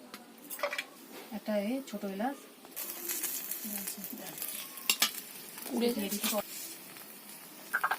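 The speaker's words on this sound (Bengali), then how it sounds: "কড়া আমার গরম হয়ে গেছে এতে দিয়ে দেবো একটা তেজপাতা ফোড়ন ওই তেলের মধ্যেই" A bay leaf tempering in hot oil in a wok, giving a sudden loud sizzle in the middle with clinks of utensils, under intermittent speech.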